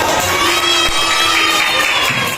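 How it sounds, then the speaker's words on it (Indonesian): A crowd of children cheers and shouts loudly and continuously, with clapping mixed into the noisy, close din. "Tepuk tangan buat Bapak"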